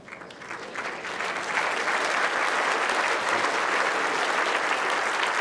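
Crowd at the 2015 World Bowls Championship applauding a good bowl, steady sustained clapping that swells after a second and holds loud and dense throughout, with no talk over it.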